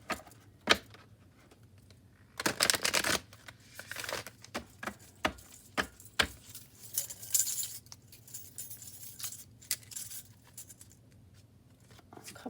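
Tarot cards being shuffled nearby: soft papery riffles and flicks in irregular bursts, a few sharper snaps among them, against a quiet low hum.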